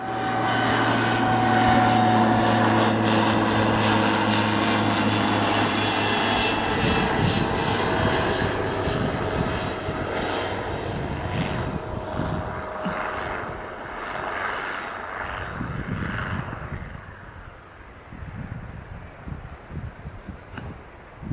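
A fixed-wing airplane flies close by near the runway on Alderney, one of the Channel Islands, its engine a loud steady drone with rushing wind that rises, holds for most of the pass, then fades away.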